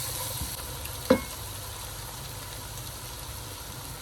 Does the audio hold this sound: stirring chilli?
yes